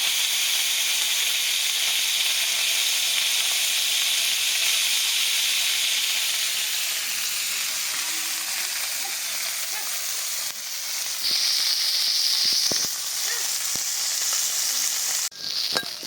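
Small fish frying in mustard oil in a wok, a steady loud sizzle and crackle throughout, with a brief louder burst of spattering near the end.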